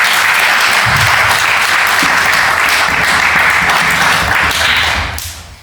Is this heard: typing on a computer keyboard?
no